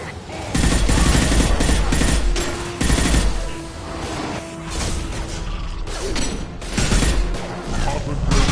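Video game firefight in a sci-fi setting, dense bursts of gunfire and mechanical clatter running loud and continuous, layered with music and effects, with a brief lull partway through.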